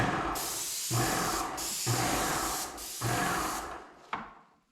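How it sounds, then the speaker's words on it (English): An airless paint sprayer fitted with a 415 tip sprays cabinets, a loud close hissing spray in pulsing bursts with short dips between, ending in a tapering hiss and a small click. "it seems like it's going to have a decent spray pattern and everything"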